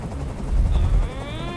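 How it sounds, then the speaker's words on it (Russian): A helicopter in the video game Detroit: Become Human, a loud continuous rotor rumble with heavy low-end thrum, steady throughout, with faint mixed game noises over it. "Прикажи им, чтобы вертолет убрался!"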